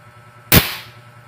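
A single sharp shot from an 850 PSI PCP air rifle, a loud crack with a short decaying tail over a low steady background hum, no voices.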